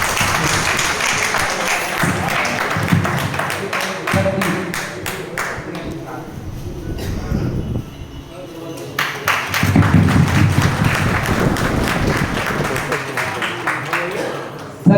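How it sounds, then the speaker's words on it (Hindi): A hall full of people at a company meeting in Banda gives loud applause for their CMD: dense, sustained clapping that briefly thins before swelling again, with voices murmuring underneath. "प्लीज एक जोरदार तालियां हमारे सीएमडी आमिर साहब जी के लिए।"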